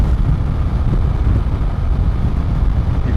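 Strong wind buffets the microphone on an early-morning motorcycle ride during an Iron Butt Saddle Sore endurance challenge, a loud, steady low roar running unbroken throughout with no speech.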